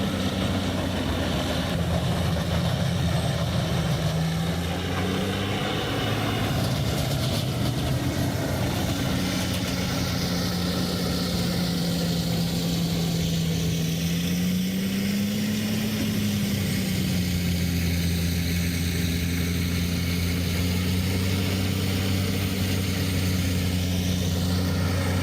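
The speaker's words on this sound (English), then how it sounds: "4680XP not only grinds the toughest logs but also optimizes industrial wood processing" A 4680XP industrial wood grinder running steadily at a large wood collection site stacked with birch treetops, a continuous heavy engine drone with a low hum that shifts slightly in pitch, close and loud throughout.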